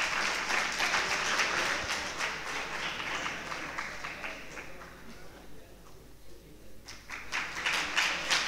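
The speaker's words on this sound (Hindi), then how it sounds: "जोरदार तालियों के साथ स्वागत करें आदरणीय मंचासीन अतिथियों का।" A Hindi-speaking audience at a weekly gathering claps to welcome guests on stage, dense applause that thins out midway, then swells again near the end, heard from a moderate distance.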